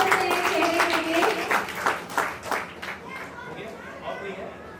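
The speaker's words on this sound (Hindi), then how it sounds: "आप लोग ये एक जोरदार ताली हो जाए खूबसूरत से चेहरे के लिए।" Audience clapping at the Saroj Seva Sansthan 8th anniversary celebration, a dense burst of applause that gradually thins out, with voices talking over it.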